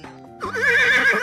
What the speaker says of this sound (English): whip the horse